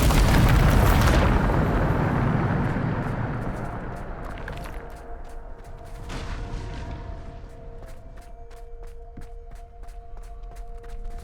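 A Bombarda spell blast in the Hogwarts Legacy game: one loud, booming explosion opens the clip, then a long rumbling decay fades into quieter ringing tones and scattered crackles, with no talk over it.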